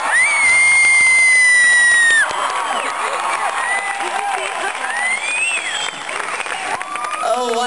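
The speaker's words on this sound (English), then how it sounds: "And it gets twice the applause." A concert crowd at a show applauds and cheers, with a high sustained scream or whistle at first, then shrill whoops and shouts over steady clapping.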